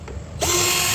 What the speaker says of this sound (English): our next step is come up here and take these stop bolts out